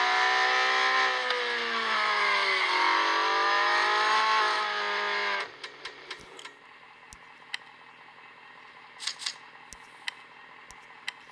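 Porsche in Real Racing 3 at the Hockenheim autocross, its engine droning loud and steady with a rising, falling pitch for about five seconds, then cutting out to quieter ticking and small clicks.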